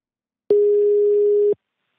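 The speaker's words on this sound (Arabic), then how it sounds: "كي نعيطو له في التليفون يلا على بركة الله" A telephone line tone heard while placing a call: a single steady tone lasting about a second, clean and isolated, starting and stopping abruptly in silence.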